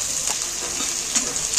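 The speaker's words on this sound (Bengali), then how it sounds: "সেন্ট কেটে রাখা পেঁয়াজগুলো তেলের মধ্যে তুলে দিচ্ছি" Chopped onions frying in hot oil, a steady bright sizzle with a couple of faint soft clicks, close and alone.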